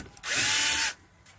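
A power drill drills out a rivet on a 2013 Jeep Sahara, one loud, close, high-pitched whine lasting under a second before it cuts off.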